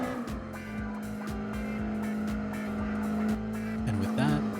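A performance-tuned 1991 Honda Beat in Gran Turismo 4 drives a course with a steady, buzzing high-revving engine drone, and tires briefly squeal through a corner near the end.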